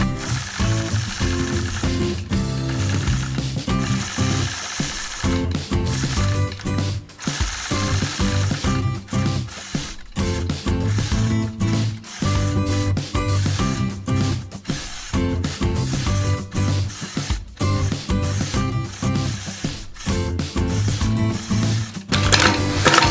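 A quilting machine stitches evenly spaced straight lines across a quilt border, producing a rapid, continuous mechanical clatter that pauses briefly several times. It is close and loud throughout, with no talking.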